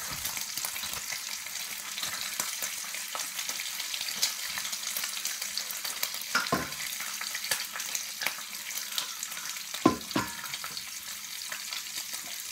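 Bacon frying in a 9.5-inch Gotham Steel non-stick titanium skillet, a steady close crackling sizzle throughout with occasional louder pops and a few sharper spatters, no talking.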